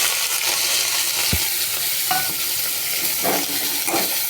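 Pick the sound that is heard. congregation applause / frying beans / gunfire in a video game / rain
frying beans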